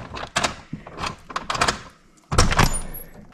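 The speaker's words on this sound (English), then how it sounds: "I'm going to open the door." A door being opened at home gives several close, loud clunks and rattles of the handle and latch, followed by a heavier scraping swing near the end, with no voices.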